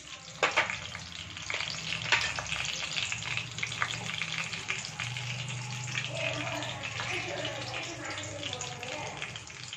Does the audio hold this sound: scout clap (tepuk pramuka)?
no